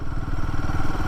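A Royal Enfield Himalayan 450 engine lugs at low speed around 25 in gear, giving a steady, close, chuggy thumping with a slightly rough, strained pulse and no talking.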